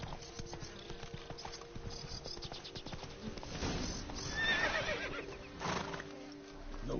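Roach, Geralt's horse in The Witcher 3: Wild Hunt, gallops with steady clip-clopping hooves and gives a loud whinny midway, over continuous game ambience.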